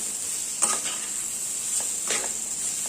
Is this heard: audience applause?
no